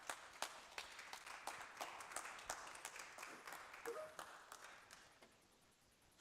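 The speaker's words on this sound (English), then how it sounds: "A round of applause, please." An audience at a conference event applauds with a dense patter of many hands clapping that thins out and fades toward the end.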